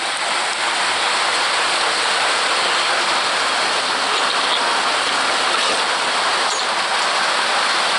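Steady rain falls in a garden, a loud, even hiss of drops striking surfaces nearby, continuous for the whole stretch with no voices.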